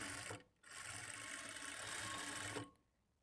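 A sewing machine runs fast through blouse lining fabric in a continuous whirring stitch, pausing briefly once before resuming, then stopping; close and steady, no talking.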